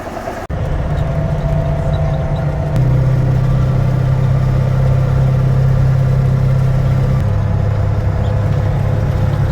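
A farm truck's engine runs at a steady, loud, close idle on a snowy morning, with a brief step up in pitch partway through and no talking.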